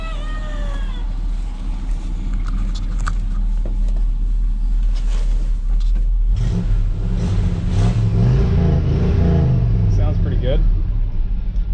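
A 1985 GMC Sierra C20 square-body pickup, abandoned for over two years, idles loudly and then revs harder midway, its engine roar swelling and surging up close, with a person talking over it.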